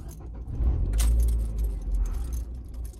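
Keys jangle loudly near a faulty car that has been cutting out, followed by a low engine rumble as the car is started, with bursts of metallic rattling over the deep motor sound.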